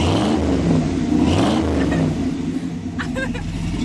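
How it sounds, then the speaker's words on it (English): A Chevy 454 big-block V8 revs hard and loud close by, rising into a throaty roar and then easing off. "Rev it up one time."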